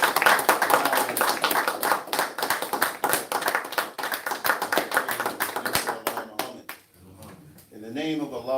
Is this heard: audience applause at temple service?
yes